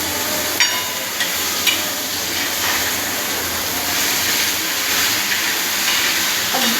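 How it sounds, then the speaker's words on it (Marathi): Wet Bombay duck fish frying in a pan, a steady loud sizzling hiss that runs the whole time with a few faint clicks and no talking. "हे आता 5 मिनटं जरा असंच फ्राय होऊन द्यायचं।"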